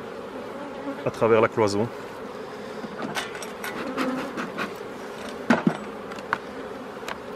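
Honeybee colony in a double nucleus hive buzzing steadily, with a louder close buzz early on and scattered sharper sounds, while someone speaks French over it.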